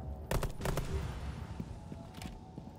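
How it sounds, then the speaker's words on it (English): Gunfire shooting at mines in a shooter video game, heard as a few quick bursts of close rapid shots over a rumbling game background. "Yeah, you can shoot the mines."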